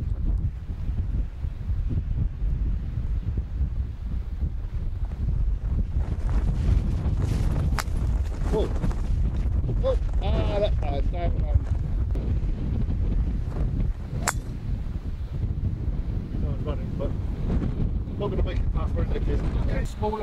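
Wind on the Staddon Heights golf course buffets the microphone in a loud, continuous low rumble, with voices talking faintly underneath.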